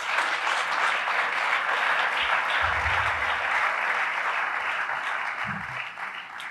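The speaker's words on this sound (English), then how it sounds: "Can we please give a round of applause?" An audience at a government school gambling-awareness event applauds steadily for several seconds, a dense, even clapping that fades slightly at the end, with no talk over it.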